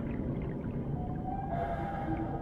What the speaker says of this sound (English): I love the sound whales make.